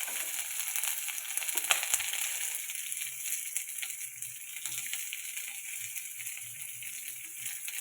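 Onion and bay leaf frying in hot oil for a soybean and potato curry, a steady soft sizzle with faint crackles and an occasional stir, quiet and continuous.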